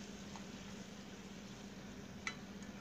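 Shrimp fries with chili, onion, ginger paste, turmeric, salt and cumin in a pan, giving a steady, quiet sizzle with a soft stir or two and no voices.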